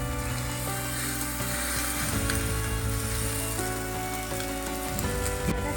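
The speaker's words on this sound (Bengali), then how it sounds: "মাংসটা রান্না মশলা কষার সাথে সাথে এবার টমেটোটা দিয়ে দিবে" Meat frying with spices in oil in a pan sizzles steadily and loudly throughout, a continuous crackling hiss with faint stirring scrapes and small pops and no talking.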